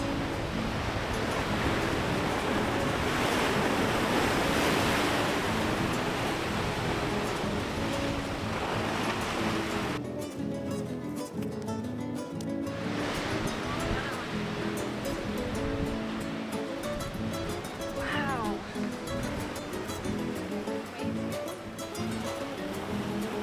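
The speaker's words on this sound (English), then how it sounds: "Oh wow, that's the ocean, huh?" Ocean surf washes steadily against the Bahamas coast from a hilltop trail, a dense, continuous roar of breaking waves with a brief gust of wind buffeting the microphone partway through.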